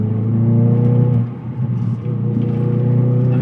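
A Hyundai i20N hatchback rolls along a bumpy road, its engine and road rumble a steady low drone from inside the cabin, dipping briefly as the car jolts before settling again.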